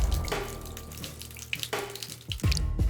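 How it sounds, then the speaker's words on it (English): Liquid accelerant pours and splashes in the video game Deponia Doomsday, a steady gurgling flow broken by a few sloshing bursts, fairly faint with no speech. "Rufus, do you think you could stop pouring accelerant into the basement of my fireworks shop?"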